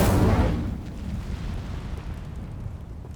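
Incendio fire spell cast in Hogwarts Legacy: a loud fiery burst at the start that quickly fades into a low rumbling crackle.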